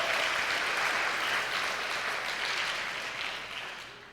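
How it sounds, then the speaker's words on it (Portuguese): A church congregation applauds during a Sunday evening service, a thick, even wash of many hands clapping that holds steady and then slowly fades toward the end. "Você pode aplaudir ao Senhor?"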